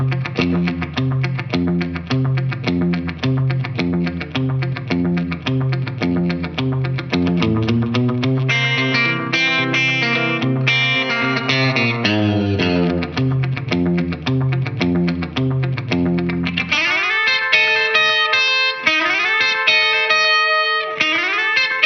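Telecaster guitar playing a riff: a steady, driving boom-chicka bass-note pattern, loud and continuous, with higher twangy lead lines entering partway through and a busier bright passage near the end.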